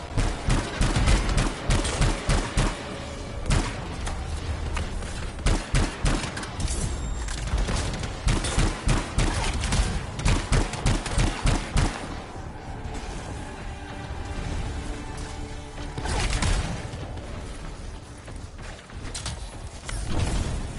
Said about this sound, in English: Not used to having professional soldiers shoot at us.